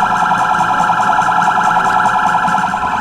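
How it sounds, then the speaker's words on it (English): A car alarm blares in the video game Sleeping Dogs, a loud, continuous warbling electronic tone that pulses rapidly and evenly throughout, with no talking over it. "So the car alarm's still going off."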